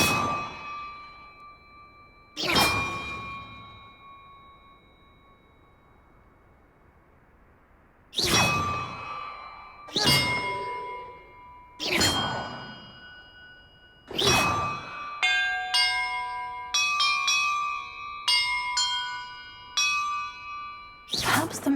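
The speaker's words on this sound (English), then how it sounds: "Perhaps the map contains clues about the order I'm supposed to ring the bells in." Bells rung one after another in Hogwarts Legacy, each struck with a bright metallic clang and a long ringing decay, sparse at first, then quicker and overlapping in a tumbling sequence, with no talking.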